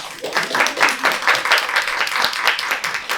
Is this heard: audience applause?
yes